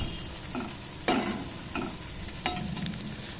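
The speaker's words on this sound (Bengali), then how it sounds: "টমেটো কুচোটাকে দেওয়ার পরেই কিন্তু এটা কষাতে হবে।" Chopped tomato and onion sauté in a pan with a constant close sizzle, broken by a few louder scraping stirs of a spatula, with no voices.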